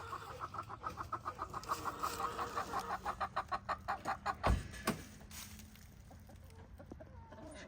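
Chickens in a backyard coop cluck in a rapid rhythmic series, with one loud sharp squawk near the middle and softer clucks trailing off after, close and fairly quiet with no talk.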